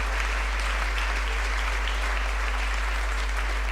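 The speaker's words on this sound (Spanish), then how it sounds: "quería pediros un aplauso para esos fantásticos músicos" Sustained applause from a crowd for musicians at an awards ceremony, a dense, even wash of clapping that holds steady from start to finish.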